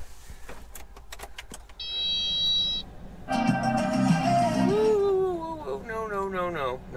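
A 4-ton work truck is cranked and its engine catches, followed by a rising roar with a whining tone, preceded by clicks and a brief electronic chime.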